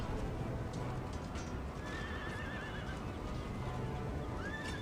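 Cavalry horses charging in an Empire Total War battle: a dense rumble of galloping hooves with several horses whinnying over it, steady and fairly distant.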